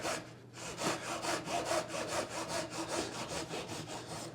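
A hand saw cuts a wooden lattice bar for a traditional Korean tortoise-shell pattern window frame, making steady, evenly spaced rasping strokes, close and continuous with no talk.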